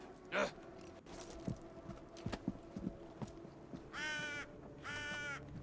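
Crows caw twice in a video game, harsh repeated calls standing out clearly over a quiet background of scattered clinks and soft footfalls.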